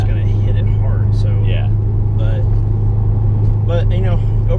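A Subaru STI with unequal length headers and an SPT exhaust gives a low, steady rumble under continuous nearby talking, with the engine note staying even throughout.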